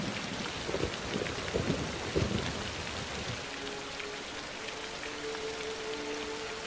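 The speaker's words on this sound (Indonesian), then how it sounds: "Di bawah air hujan dan petir yang menyambar-nyambar" Steady heavy rain pours down in a dramatic film scene, with low rumbles of thunder rolling through the first few seconds before the downpour continues alone at moderate loudness.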